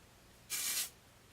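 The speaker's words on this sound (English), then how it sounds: "kind of do a quick spray." Frizz Ease Moisture Barrier hairspray misted onto curled hair in one quick burst, a short bright hiss lasting under half a second against a quiet room.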